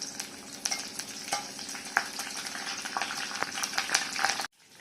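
Dried red chillies and curry leaves crackle and sizzle steadily in hot oil in a pan, with occasional stirring clinks, before it abruptly stops.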